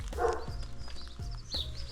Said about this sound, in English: And a dog behind us.